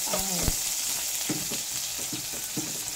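Onion or garlic sautéing in oil in a pan for ginisang alugbati with tofu, a constant bright sizzle with a few clinks and scrapes of a utensil stirring, close and steady, no talking.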